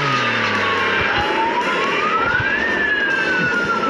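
Police car siren in a video game, a loud wailing tone that sweeps slowly up and down across the whole stretch, with steady engine and traffic noise underneath and no talking.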